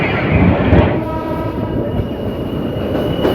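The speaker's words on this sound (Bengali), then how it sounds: "নারায়ণগঞ্জ কমিউটার ট্রেনটি এতে কিছুক্ষণের মধ্যে নারায়ণগঞ্জ রেল স্টেশন দিয়ে প্রবেশ করলাম" A Narayanganj commuter train rolls into a railway station on the Dhaka to Narayanganj line, with a steady close rumble of the cars and wheels and a brief horn-like tone near the start.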